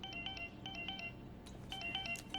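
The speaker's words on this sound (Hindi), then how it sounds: "किसका फोन है?" A phone rings with a bright electronic tone in two quick repeated bursts, against a steady low background hum.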